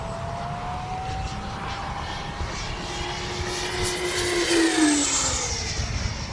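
A Freewing Mirage RC jet flies past on SMC battery packs, its electric ducted fan whining loudly with pitch sweeps as it passes close and then draws away.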